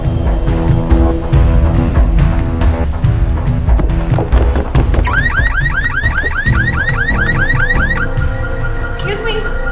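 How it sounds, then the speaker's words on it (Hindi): A car alarm goes off on a green Volkswagen, its warbling electronic tone cycling loudly from midway through, rising over an already busy, noisy street scene. "वो गाड़ी का अलार्म बज रहा है"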